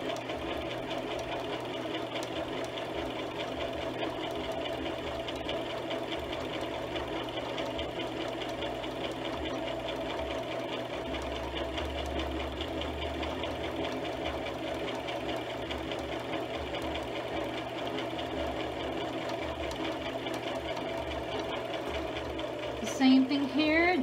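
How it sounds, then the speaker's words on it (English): A sewing machine runs steadily while stitching around a baby burp cloth, a continuous close mechanical whir that holds through the whole stretch with a brief change near the end as the fabric is pivoted at a corner. "As I get to the corner, I'm gently just pivot and lower the foot and continue sewing down."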